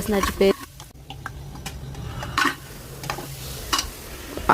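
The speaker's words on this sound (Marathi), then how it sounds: "कुकरमध्ये तेल गरम करून त्यात कांदा," Oil sizzles steadily in a pressure cooker as onion fries while a spoon clatters and scrapes against metal in short bursts; no voices.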